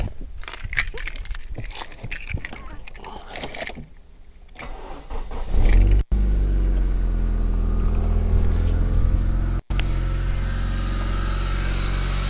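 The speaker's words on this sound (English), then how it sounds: "Nice smooth startup, no flattering anywhere, no tapping in noises, running nice and smoothly." A 2000 Honda Civic with the D14Z4 engine, just serviced, is heard after some clinking of keys and tools: the engine cranks and catches, then settles into a steady, even idle close by with no other sounds.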